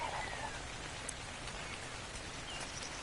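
Steady rain falls on an island in the survival game Ark, a constant dense hiss of drops on surfaces at an even level throughout, with no voices.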